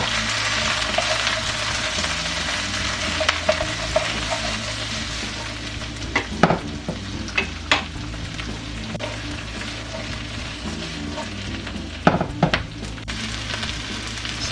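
Onions frying in a pot over a medium flame give a steady, loud sizzle, broken by a few sharp clanks of a utensil against the pot.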